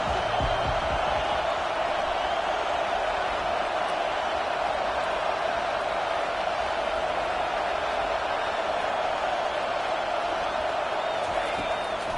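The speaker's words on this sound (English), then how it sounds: "Decibels rising as the crowd gets behind this defense on 3rd down." A stadium crowd in a college football video game roars as one steady, loud wash of cheering that lasts the whole stretch without pause.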